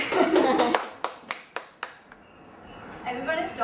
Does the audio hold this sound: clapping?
yes